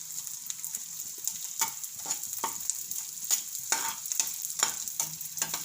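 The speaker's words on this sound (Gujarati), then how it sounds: "થોડા તળી લેવું એટલે સરસ તળાઈ જાય ગુંદને" Edible gum sizzles in hot sesame oil in a pan, a steady high frying hiss broken by repeated scraping strokes as it is stirred.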